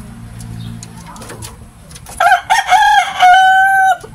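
A Gilmore gamefowl rooster crows loudly nearby in a long, rising call, with softer clucking from a sick, sneezing flock and low background noise before it.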